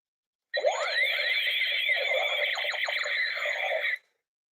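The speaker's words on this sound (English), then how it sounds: "Every time I get a super chat, I'll sound the alarm." A novelty alarm gadget blares for about three and a half seconds, a loud, close warbling siren with sweeping, chirping tones that starts and stops abruptly, alone without talk.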